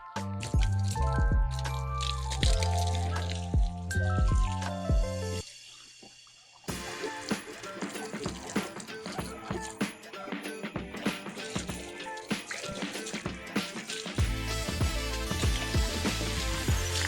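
Water is poured from a tabo dipper while a Honda ADV 160 scooter is washed by hand, giving continuous splashing, dripping and squishing. A short, quieter lull breaks the sound about midway through.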